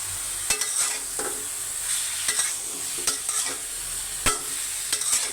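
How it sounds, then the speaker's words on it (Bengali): A curry of ridge gourd and hilsa fish sizzles steadily in a frying pan while a spoon stirs and scrapes it, with close, repeated stirring knocks over the frying hiss. "আমি এখন এটাকে ভালো করে কষিয়ে নেব সুন্দর করে।"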